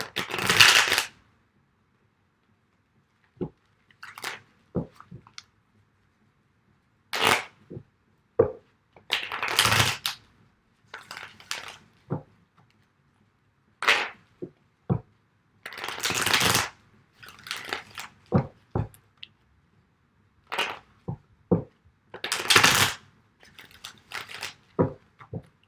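Tarot cards are shuffled in repeated bursts, with crisp riffling and flicking separated by short pauses, close and clear with no talk.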